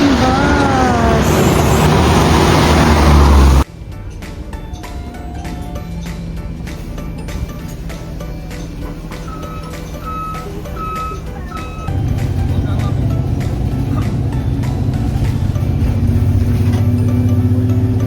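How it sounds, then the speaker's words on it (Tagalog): A city bus pulls in after a burst of street noise, its engine idling and rumbling close by with faint beeps and mechanical clicks, the engine note rising again toward the end while a voice talks briefly. "Ayan na ang ating bus."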